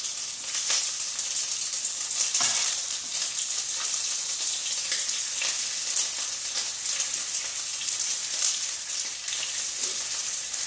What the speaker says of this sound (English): Want that last piece to sort of crisp up a touch more.